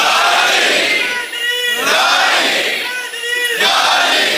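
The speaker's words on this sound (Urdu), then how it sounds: "اگر خودداری پر نوجوان نعرے لگانے لگ گئے تو پھر تو بات بن گئی." A large crowd of young men chants slogans in loud unison bursts at a religious gathering, three rising shouted waves filling the space.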